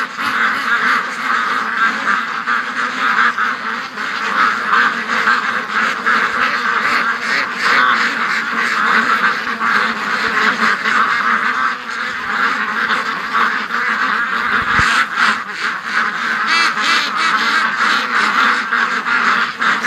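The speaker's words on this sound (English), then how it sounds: "Maybe, it looks like about maybe 50, 75 ducks are in the swamp." A large flock of about 50 to 75 ducks in a swamp quacks constantly and loudly, a dense, unbroken chorus of overlapping calls throughout.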